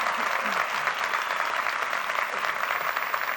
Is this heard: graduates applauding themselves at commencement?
yes